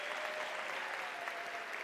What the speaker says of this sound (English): I think they deserve a round of applause too.